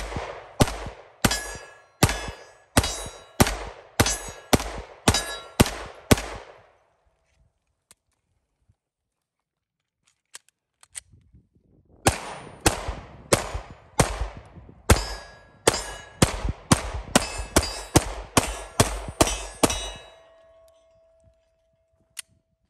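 Pistol fired with iron sights by a shooter wearing a CM-7M gas mask, two strings of rapid, evenly spaced sharp shots with a quiet gap between, each crack ringing briefly, loud and close, with no talking.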